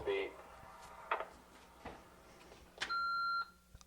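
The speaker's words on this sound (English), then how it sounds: "Please take your name and number after the beep." A microcassette answering machine plays a few soft clicks and clunks, then gives a single steady electronic beep lasting about half a second, close up in a quiet room.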